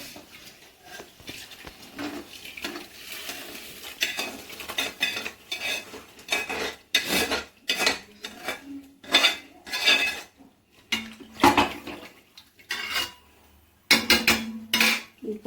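Rice and lentils tipped into a cooking pot for vegetarian khichuri, with a run of clattering metal pot and utensil knocks and scraping stirring, close and fairly loud, the noises coming in irregular clusters.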